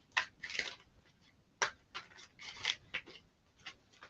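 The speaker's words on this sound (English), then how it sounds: "I'm just going to keep on shuffling until you make a card" Tarot cards being shuffled by hand, a run of quick papery riffles and slaps arriving in uneven bursts, close and fairly quiet, with no talk over them.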